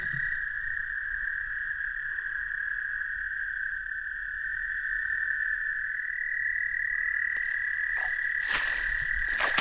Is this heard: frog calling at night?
yes